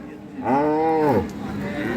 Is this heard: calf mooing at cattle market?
yes